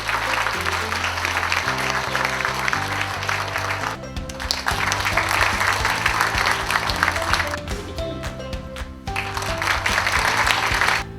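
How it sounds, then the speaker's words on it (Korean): Sustained applause fills the whole stretch at a Korean community center opening ceremony, loud and dense, with music playing underneath and brief dips in the clapping. "여러분들 힘찬 박수를 부탁드립니다."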